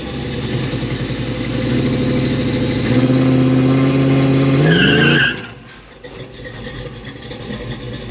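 A Chevelle V8 with a Summit Racing power disk brake upgrade revs hard against held brakes, a loud sustained roar rising in pitch with a squeal, then drops sharply to a lower idle-like rumble.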